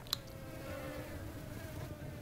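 Flies buzz in the video game Supraland, a faint, steady insect drone that holds at low volume through the whole stretch with no speech.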